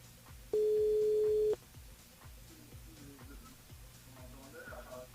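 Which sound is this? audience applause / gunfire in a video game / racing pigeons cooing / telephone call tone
telephone call tone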